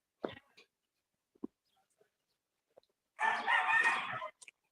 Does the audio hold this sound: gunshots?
no